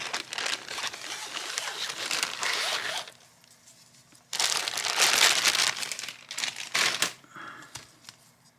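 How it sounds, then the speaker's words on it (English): Wrapping crinkles up close in loud rustling bursts, pausing into near quiet for about a second before a second, louder round of crumpling and crackling. "Sorry for the crinkle."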